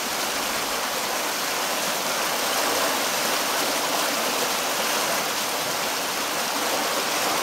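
Spring water rushes and gushes steadily and loudly from a spring house at White Springs, Florida, a dense, unbroken flowing roar with no voices.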